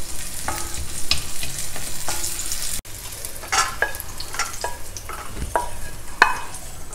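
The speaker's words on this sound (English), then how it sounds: "Add some cashews and a few raisins too. Fry them till they are nice and golden." Cashews and raisins frying in ghee, a bright sizzle with scattered sharp pops and a few stirring clicks, close up and without speech.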